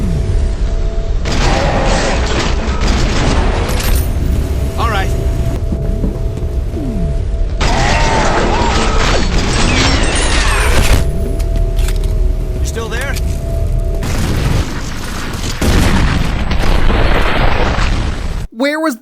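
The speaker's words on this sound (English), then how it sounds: "The PS3, on the other hand, got a semi-automatic shotgun that's just as strong as the base F.E.A.R" A semi-automatic shotgun firing repeatedly in the PS3 version of F.E.A.R., heavy booming shots with battle noise, all under continuous talking.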